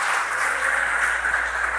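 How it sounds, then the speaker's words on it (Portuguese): Church congregation applauding for Jesus, a dense, steady wash of clapping from many hands that continues throughout the short moment without pause. "Um aplauso a Jesus, por favor."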